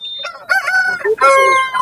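A rooster at a poultry market crows loudly and close, one full cock-a-doodle-doo call with rising and falling strained notes, standing out clearly over quiet market background.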